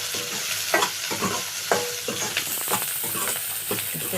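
Onions frying in hot oil with cumin seeds in a pan for a meatless fish-style curry, a steady close sizzle broken by irregular scraping stirs, with no voice.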